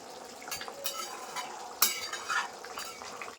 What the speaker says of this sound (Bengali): এবার দিয়ে দেবো আমি একটু গরম মশলাগুলো দিয়ে নেড়ে চেড়ে ব্যাস আমি নামিয়ে নেবো